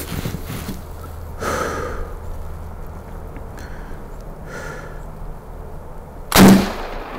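A turkey shotgun fires a 3-inch shell at a target 40 yards out outdoors, one sharp loud blast near the end after breathy handling noises and quiet shuffling.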